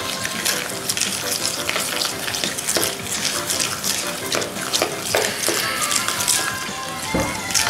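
Cream being mixed into ricotta with a spoon in a hot kitchen, a steady wet churning and scraping that runs throughout with a few louder clinks near the end.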